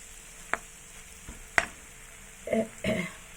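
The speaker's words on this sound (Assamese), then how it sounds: "নৰসিংহ পাতকেইডাল দি পেলাই এয়া মই ধুনীয়াকৈ লৰাই আছোঁ।" Curry leaves frying in a pan, stirred with a spoon, giving a few sharp scraping clicks and short bursts of sizzle near the end over a quiet background, no voices.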